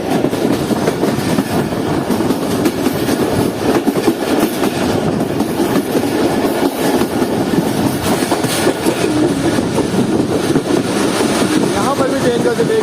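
An express train approaches Rang Pathani railway station after rain, a loud, steady rumble of wheels on rails with clickety-clack under a continuous roar, heard from on board, with a voice talking over it.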